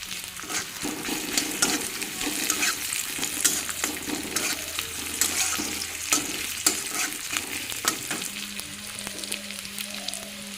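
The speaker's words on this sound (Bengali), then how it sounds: "ভালো করে নেড়ে নেব" Fried potato, eggplant and pumpkin are stirred with a spatula in a sizzling pan, giving close, continuous frying hiss broken by repeated scraping strokes, with no talking.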